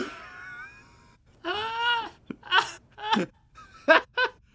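A person imitating a cat's meow, a series of drawn-out, wavering vocal meows and yowls in short bursts, close and fairly loud.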